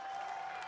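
A crowd at a BMX race event in Papendal applauds the race winner, sending up a brief, steady wash of clapping with cheering.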